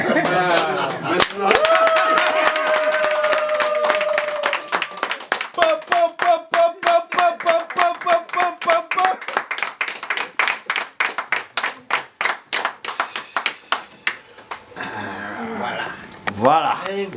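A group claps rhythmically at a dowry-giving ceremony, with sharp, evenly spaced hand claps carrying on for several seconds alongside singing voices and a trilling cry before trailing off.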